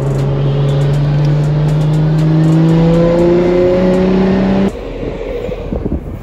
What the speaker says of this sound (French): Oh, on l'entend pétarader, c'est fou.